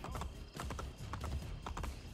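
Rapid hoofbeats of a galloping horse in the video game Assassin's Creed Brotherhood clatter steadily throughout, a rhythmic clip-clop over a low rumble, fairly close and continuous.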